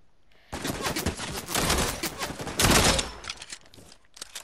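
Video game gun firing in rapid bursts, loud clustered cracks of automatic fire that swell and fade, with brief pauses between volleys.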